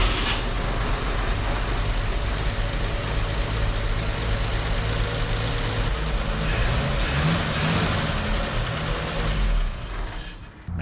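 An abandoned 1958 Chevrolet Apache truck's engine idles nearby with a rough, uneven knocking rumble that settles lower as it idles down, fading slightly near the end, with no speech over it.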